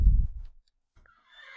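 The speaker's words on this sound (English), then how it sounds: "a horse that I'm soon going to tame with my amazing apple" A horse in a video game lets out a short snort followed by a high, quavering whinny, heard clearly with a brief silence between the two sounds.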